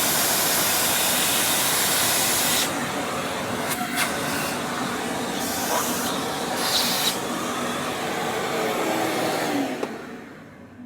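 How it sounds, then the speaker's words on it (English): A vacuum cleaner sucks debris from the opened burr chamber of a Ceado E37S coffee grinder, a loud steady whooshing roar with brief rattles and shifts as the nozzle moves, cutting off near the end. "we'll get them brushed out here and do a little vacuuming"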